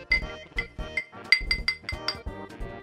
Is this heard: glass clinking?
yes